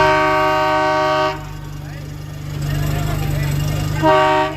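A freight train's horn sounds at the Wankaner railway yard where a goods wagon has derailed: a loud, steady blast, a pause filled with rumbling yard noise and a voice, then a shorter second blast.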